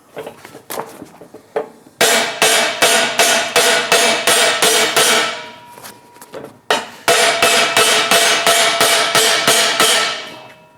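Rapid, loud hammer blows ring out in two fast rhythmic runs, sharp metallic strikes close up on a car gearbox ring gear, preceded by a few scattered lighter taps.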